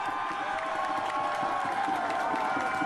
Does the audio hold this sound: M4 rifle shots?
no